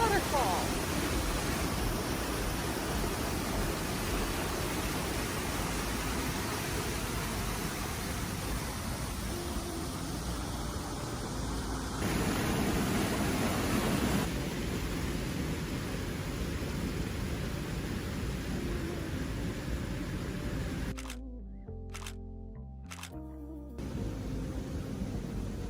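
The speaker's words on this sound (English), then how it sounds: "It sounded like thunder. But it was the waterfall." Loud waterfall on a Wisconsin hiking trail, a steady broadband roar filling the whole clip, thunder-like and close, with people talking over it at times.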